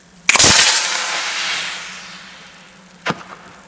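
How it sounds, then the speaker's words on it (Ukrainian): A sharp pop and a loud hissing whoosh as a signal flare rocket launches and fades away, followed by a second short pop. "Ракети взлетіли і полетіли на дистанцію невелику, але їх було видно досить добре"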